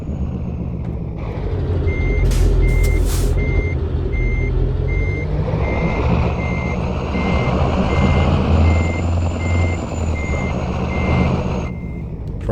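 A truck backing a trailer into a bay in American Truck Simulator, its reversing alarm beeping in an even repeated rhythm over a loud, steady diesel engine drone, with a brief air hiss partway through.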